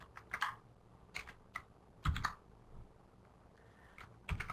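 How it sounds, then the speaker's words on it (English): Someone types a ticker symbol on a computer keyboard: a few quick bursts of crisp key clicks separated by short pauses, quiet and close, with no voices. "and then we type in the ticker symbol"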